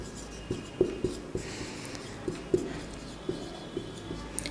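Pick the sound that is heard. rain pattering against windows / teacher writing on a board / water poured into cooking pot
teacher writing on a board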